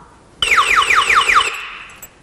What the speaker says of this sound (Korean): 이 경보음은 볼륨 조정이 안 되게끔 설계되어 있어서 무조건 최대치로 음량이 나타나기 때문에 도난 방지에 좀 효과적입니다